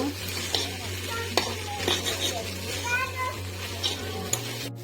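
A vegetable and chickpea bhuna is stirred in a pan with a constant sizzle, repeated scraping strokes of the spoon and a low steady hum underneath.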